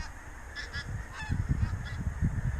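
Pink-footed geese honk on a frosty morning, a few clear calls close by over low rumbling wind and movement.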